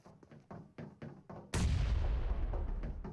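Grenade explosions during a PUBG Mobile esports match: a run of distant thudding bursts, then one loud close blast with a long rumbling tail.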